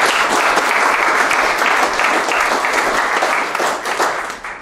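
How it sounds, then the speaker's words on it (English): Loud, dense applause from the audience at a TOP Tax Talks event in Auckland, thanking the organising teams. The clapping is close and sustained, with a little crowd noise mixed in, and it tapers slightly at the end. "So big round of applause for all of them."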